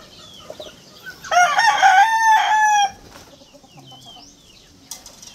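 A rooster crows loudly and close at a backyard poultry coop, one long crow lasting about a second and a half, with softer clucking and scattered chick peeps around it.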